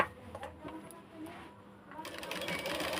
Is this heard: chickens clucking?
no